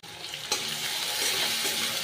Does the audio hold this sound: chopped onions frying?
yes